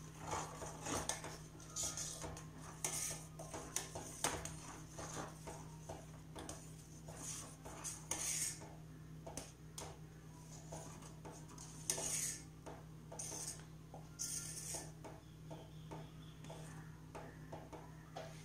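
Milk boiling in a pot for homemade paneer is stirred with a metal spoon, making repeated scraping clinks against the pot over a low, steady hum, with no voices.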